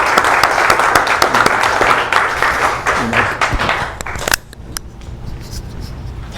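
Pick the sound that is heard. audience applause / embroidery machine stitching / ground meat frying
audience applause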